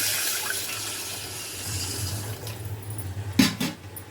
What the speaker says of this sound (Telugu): ఇప్పుడు ఇంక వెంటనే వాటర్ వేసుకుంటున్నాను.